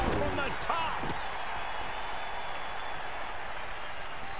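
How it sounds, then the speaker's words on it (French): Arena crowd applause and cheering during a women's wrestling match in the WWE 2K20 video game, a steady broadband roar with a few sharp impacts early on, talk layered over it. "En tout cas, le public applaudit."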